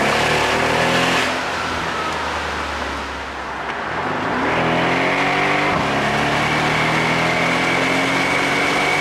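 A 2013 Mercedes-Benz SL63 AMG engine revs and roars while driving, pitch rising and falling through gear changes, loud and close throughout.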